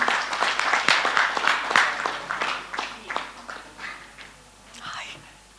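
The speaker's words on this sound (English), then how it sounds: "Can we have a huge round of applause for her as well as Fred?" A conference audience gives a round of applause on stage, dense clapping mixed with murmured voices that gradually thins and fades out toward the end.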